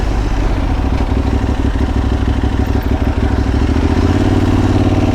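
An Aprilia-style Tuareg motorcycle engine runs on a Naples street, a loud continuous close-up chugging rumble with a steady pulsing beat that shifts slightly in pitch toward the end, alone without talk.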